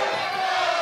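Spectators roar and cheer in a steady, dense wash during a co-main-event MMA fight in Paris, with no breaks in the crowd noise.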